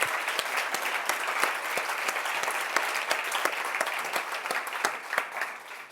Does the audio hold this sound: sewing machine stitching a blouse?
no